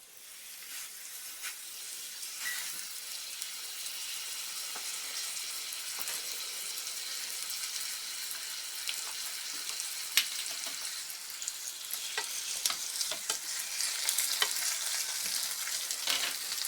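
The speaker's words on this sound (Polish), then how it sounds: "Na rozgrzany olej kładę kotlety częścią z pomidorem na spód." Steady crackling sizzle of breaded pork cutlets frying in hot oil, close and continuous, with small pops and spits scattered throughout and no talking.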